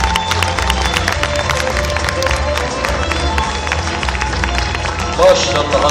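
Audience applause and cheering at a sports veterans' award ceremony in Tabriz, East Azerbaijan: a dense, steady wash of clapping mixed with crowd noise and music running throughout.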